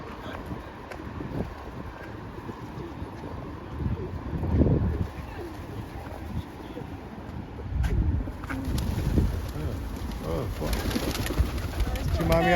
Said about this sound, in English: There's a lady that feeds the flying rats here in Brighton, better known as pigeons.